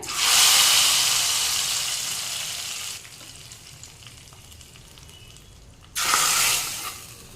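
Mustard seeds, dried red chilli and curry leaves sizzle loudly in hot oil as the tempering is poured into a seven-vegetable Thiruvathirai kootu; a strong hiss for about three seconds fades to a quiet crackle, then a second loud burst of sizzling near the end.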